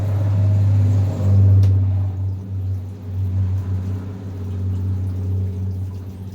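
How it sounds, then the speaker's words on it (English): A loud truck rumbling past on a rural road, a heavy low engine roar that swells, peaks and fades slowly while staying strong in the background. "So excuse the truck noise."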